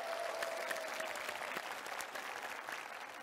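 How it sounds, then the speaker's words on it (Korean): Faint, distant audience applause at a Korean talk concert in Seongnam, a continuous wash of clapping that holds steady for the whole stretch with no voices on top. "박수 한번 부탁드리겠습니다."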